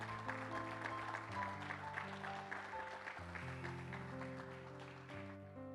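Church congregation applauding during an evening service, a faint, steady patter of clapping under sustained chords of keyboard music.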